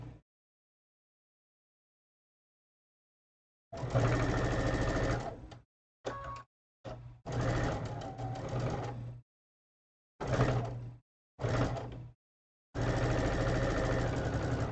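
A sewing machine stitches quilt fabric in several loud, close bursts of steady mechanical whirring, separated by short pauses and brief stop-start taps, after a silent opening.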